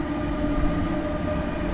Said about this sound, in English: so that's an NS train.